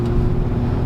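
A vintage BMW project car with a 4-speed transmission labours up a hill, its engine a loud, steady low drone with a strong rumbling hum under strain, continuous and close, with no speech.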